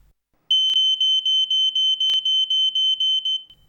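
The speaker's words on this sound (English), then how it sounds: "When the smoke threshold is exceeded, the multi-sensor alarm will sound and the alarm LED will be activated." An Ei Electronics multi-sensor smoke alarm sounds a steady run of loud, rapid high-pitched beeps, about a dozen evenly spaced pulses lasting roughly three seconds, then stops.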